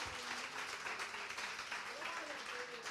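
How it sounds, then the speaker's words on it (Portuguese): A church congregation claps together in a brief burst during a Sunday service, dense applause mixed with voices. "Podemos dar um aplauso ao Senhor?"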